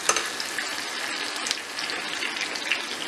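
Onions frying in a pan as a base for poppy seed chutney, giving a steady, dense crackling sizzle throughout with no talk.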